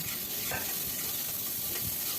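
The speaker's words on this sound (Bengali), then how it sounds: "এটাকে আমি ভালো করে এখন একটু ভেজে নেব" Chopped garlic and onion frying in a pan with pumpkin greens, a continuous close crackling sizzle broken by soft stirring scrapes, with no voices.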